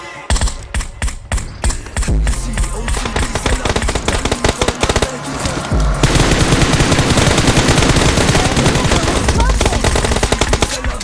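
Rapid automatic gunfire in a battle royale video game rattles loud and nearly nonstop, with bursts that thicken into a dense barrage halfway through.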